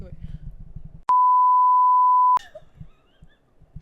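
A censor bleep cuts across speech, a single steady pure tone held loud for just over a second with talking before and after it.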